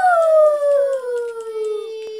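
Wolves howl in the Minecraft video game on Xbox, a loud, drawn-out howl that slides steadily downward in pitch and tails off, heard alone without talk.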